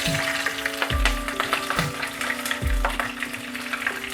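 Slit green chilies sizzle in hot oil with panch phoron seeds, making a loud, steady crackle. Three heavy splashes land as pieces drop in, over a faint humming tone.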